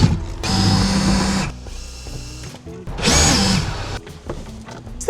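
A power drill undoes screws holding a boat's rear seat platform, giving bursts of close, loud whirring broken by short pauses and a second strong run partway through.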